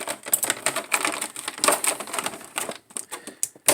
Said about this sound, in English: let's clip this, what appears to be a masterpiece, out of packaging